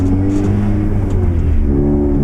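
Inside the cabin of a Honda Civic Type R FK8 fitted with a catless PRL downpipe, a loud engine drones steadily with a deep rumble throughout, and no one speaks.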